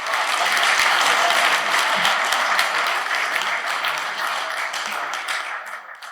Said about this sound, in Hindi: आप सबकी तालियों में भरपूर इस्तकबाल कीजिए।